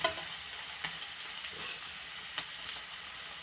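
Paneer cubes fry in oil in a pan, a soft steady sizzle with a few light taps and clicks as pieces are turned, fairly quiet and without speech.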